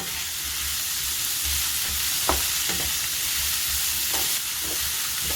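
Leeks and green chillies being stirred in a hot pan, a steady sizzle of frying with several brief scraping strokes of a spoon, close and alone without talk.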